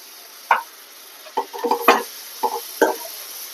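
Ginger garlic paste frying in a pan for mushroom curry, stirred with a spoon: a faint steady sizzle under a handful of scraping stirs, spaced irregularly and close by, with no talk.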